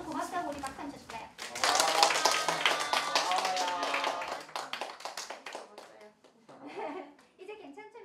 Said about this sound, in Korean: 우리 박수 한번 쳐줄까요?